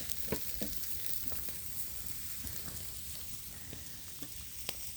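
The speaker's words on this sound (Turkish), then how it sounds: "çayımız orada kaynıyor" Steady sizzling, bubbling hiss from a pot of tea boiling over an open campfire, with scattered small pops and crackles throughout, no voices.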